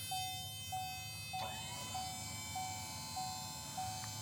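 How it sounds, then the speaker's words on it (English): Lift alarm on a 2020 Chevrolet Silverado 6500HD Duramax dump truck, a steady series of evenly spaced high electronic beeps repeating about every half second, with a brief rattling clank partway through over a low engine idle. "It does have a lift alarm."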